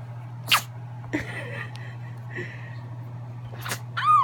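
A few short, sharp sneezes from a puppy, spaced apart over a few seconds, close to the microphone, with a brief squeaky vocal sound at the end.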